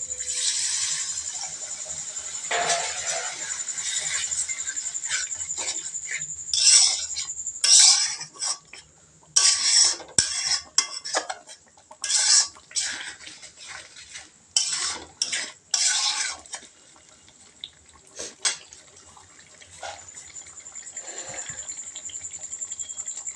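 A spice masala for a chicken curry is stir-fried in a pan with a splash of water. A bright sizzle lies under repeated bursts of spatula scraping and clattering that come and go in irregular strokes.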